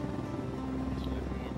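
Helicopter rotor in a video game, a steady, fairly faint thrumming drone that holds evenly throughout the short clip.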